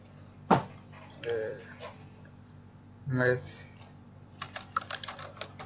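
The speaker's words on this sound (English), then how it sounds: "I'll type" Fingers type on a computer keyboard while building a quotation template, a quick cluster of light clicks near the end following a few softer handling noises, fairly quiet and close.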